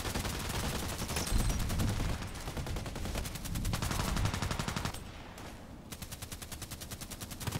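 Rapid gunfire in a sniper video game rattles on almost without a break, as dense, evenly spaced bursts of automatic shots that stay loud throughout and ease only briefly near the end.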